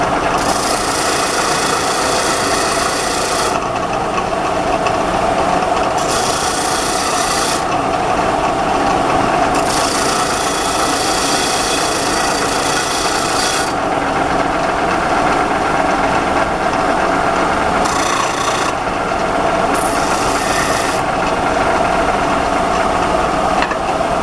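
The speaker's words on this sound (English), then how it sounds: "So we're going to take it over to the grinder and deburr it." A grinder deburring a machined metal part, a loud continuous gritty rasp with bursts of brighter, harsher grinding as the piece is pressed on and eased off, over a steady machine drone.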